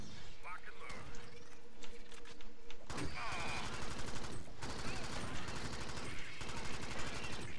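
Bursts of automatic weapon fire in the sci-fi shooter game Alien Swarm, sharp repeated shots and rattling volleys that come and go over several seconds, with players talking over the action.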